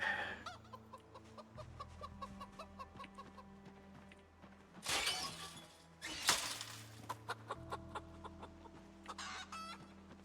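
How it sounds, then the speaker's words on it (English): Chickens cluck and squawk in the video game Project Zomboid, a busy run of sharp, close calls over steady game ambience, broken by two loud crashing bursts midway. "We're gonna go check on the chickens. Oh, this is why they're freaking out."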